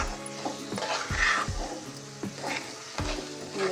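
A spoon stirs thickening motichoor laddu mixture with ghee in a pan over the flame, giving repeated scraping, sticky strokes at an even rhythm over a soft sizzle, close and fairly quiet.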